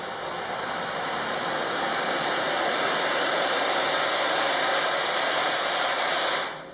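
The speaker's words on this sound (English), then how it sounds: "on the bottom of the handle there I've got a little button, and that will let the steam out of the hose" A Jet Vac Ultima steam cleaner lets steam out of its hose in a loud, steady hiss that holds unbroken for about six seconds, then cuts off abruptly.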